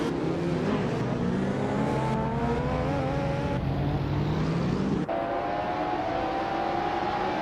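Several racing cars from a video game, one a 1995 McLaren F1 GT, surging off the line at the race start, a dense layered engine roar with rising and shifting pitches, loud and continuous, and no talk over it.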